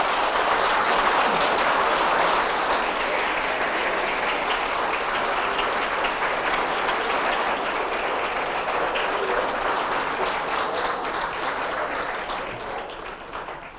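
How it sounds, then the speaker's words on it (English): A lecture audience applauds, a dense, sustained clapping that stays loud for over ten seconds before gradually thinning out toward the end. "They applauded for you, Jamie?"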